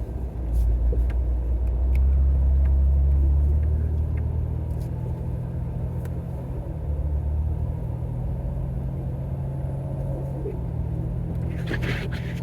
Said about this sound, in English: Here you go, the big salt truck. And it's gonna spread salt all over the street.